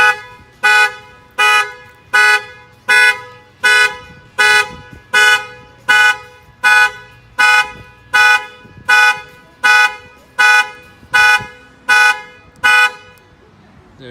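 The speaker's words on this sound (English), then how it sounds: "break any window, that will fire off the factory alarm" A Ford Mustang factory car alarm, set off by banging on the glass, blares in a steady pulsing pattern, about twenty loud harmonic honks evenly spaced, repeating without pause until it cuts off near the end.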